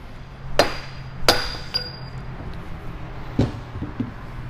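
Hammer blows seating a bearing in a Battioni rotary vane pump: three sharp metallic strikes close together early, then a couple of softer taps later, close and clear over quiet workshop background.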